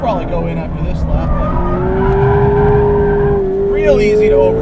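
A 2017 Mazda MX-5 Miata RF engine drones steadily with a rising whine and brief tire squeal as the car oversteers through a corner on a race track, with a voice talking over it.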